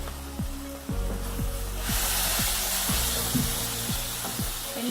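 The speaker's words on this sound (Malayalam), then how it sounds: "തക്കാളി പേസ്റ്റാണ്, അത് ചേർത്ത് കൊടുക്കാം." Tomato paste hits hot frying spices for a Kerala-style fish masala roast, and a loud steady sizzle starts up, joined by repeated scraping strokes of a spoon stirring in the pan.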